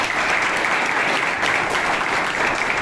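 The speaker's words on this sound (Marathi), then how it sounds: "मॅनेजमेंटसाठी जोरदार टाळ्या." Loud, dense clapping from an assembled crowd at an Independence Day gathering of a de-addiction center, honoring its management, sustained evenly throughout.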